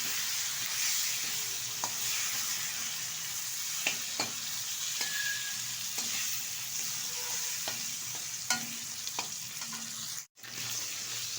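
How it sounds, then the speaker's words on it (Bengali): Barramundi (bhetki) fish head frying in hot oil with turmeric, a steady soft sizzle with scattered crackles and stirring clicks, close and continuous, no voices. "এখন দিয়ে দেবো এখানে বেছে রাখা ধুয়ে রাখা ভেটকি মাছের মাথাটা ভালোভাবে ভেজে নেব"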